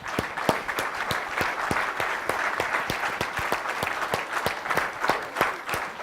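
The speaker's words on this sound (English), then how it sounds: "let's give them a big round of applause" A seated conference audience at a real estate convention applauds, a sustained wash of clapping with a few sharp, distinct claps standing out near the microphone in a loose rhythm.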